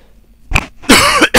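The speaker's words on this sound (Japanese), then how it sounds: "咳込んじゃった。" A person gaming coughs several times in close succession, a short burst followed by a longer harsh cough and a final brief one, loud and close.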